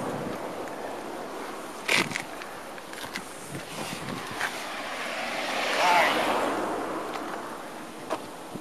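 Road traffic in a mountain valley between L'Aquila and Antrodoco: a vehicle swells in from a distance and passes midway, over quiet outdoor ambience with scattered footsteps and faint voices.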